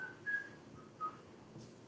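Someone in a church Bible-study audience whistles faintly as an answer, giving two short, thin, distant whistle tones in an otherwise quiet room.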